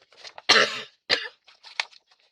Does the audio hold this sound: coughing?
yes